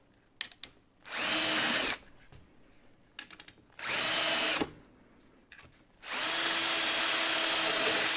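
Three bursts of a power drill boring a 4mm hole for 8-gauge screws, each roughly a second long and loud and close, separated by quieter handling clicks and taps.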